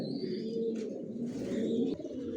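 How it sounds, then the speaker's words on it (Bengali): Adult pigeons in a pigeon loft give soft, overlapping throaty coos close by, a continuous low murmur of several birds lasting the whole moment. "এখানে সব অ্যাডাল কবুতর"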